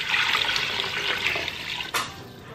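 Water pours from a tap into a cooking pot holding onion, ginger and garlic for kare-kare, a steady splashing rush that cuts off with a short clatter near the end, with no talking.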